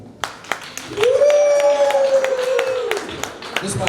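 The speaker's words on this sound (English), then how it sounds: "Let's give her a warm round of applause" Scattered claps from a small comedy open-mic crowd in Richmond, Virginia, a few sharp claps at the start and then a long sustained cheering whoop riding over sparse clapping.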